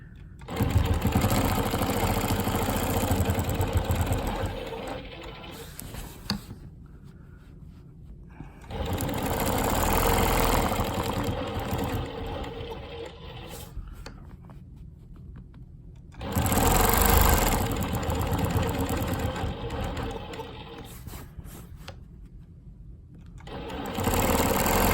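A longarm quilting machine stitches a custom quilt sample for a quilt shop, its fast, steady mechanical whir surging in several loud bursts with softer hums between them.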